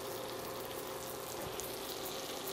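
A grilled cheese sandwich frying in butter in a pan, heard as a constant, fairly loud sizzle and crackle close up, with no talking over it.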